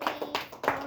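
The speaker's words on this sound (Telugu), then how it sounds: "నీకు 6 క్లాప్స్ కొట్టండి అందరు" A quick run of sharp hand claps at a birthday gathering, several claps in fast succession, close and fairly soft.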